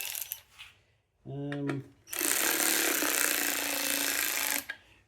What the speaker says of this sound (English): cordless ratchet